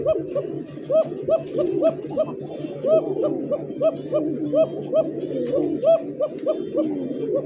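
A pair of Lahori pigeons, male and female, coo repeatedly in close, steady rhythmic bursts, the calls overlapping and fairly loud, with faint background murmur.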